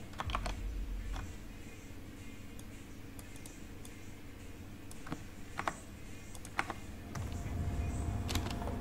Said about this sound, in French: le bruit du clavier ne vous gêne pas trop trop